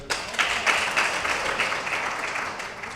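An audience claps at a political rally, forming a dense patter of applause that begins sharply and holds steady at moderate volume throughout.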